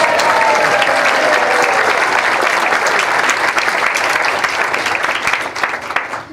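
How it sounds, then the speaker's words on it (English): An audience claps steadily for the officers at a GLPA planetarium conference awards session in 2018, a dense, continuous wash of applause that tapers slightly toward the end. "Now you can clap for the officers."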